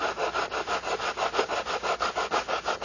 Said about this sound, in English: we'll use the sandpaper to clean up the edges